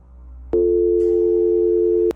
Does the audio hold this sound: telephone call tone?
yes